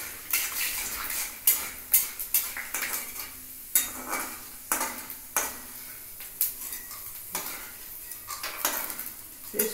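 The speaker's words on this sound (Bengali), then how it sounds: "এটা আমার ভাজা প্রায় হয়ে এসেছে" Vegetables and peanuts stir-fried in a pan for veg chowmein: a spatula scrapes and clatters against the pan in repeated bursts over a low, steady sizzle, close by, with no speech.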